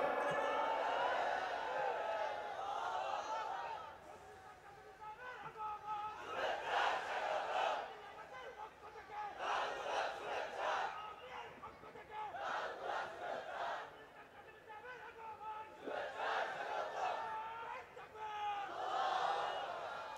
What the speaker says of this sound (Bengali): হুজুর আসছেন, একটা তাকবীর দাও না।